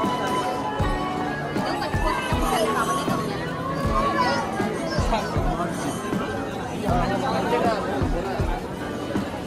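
Busy Sunday crowd at Shirdi Sai Baba temple, a constant wash of overlapping chatter from many people with periodic footfalls and knocks nearby, sustained at an even level.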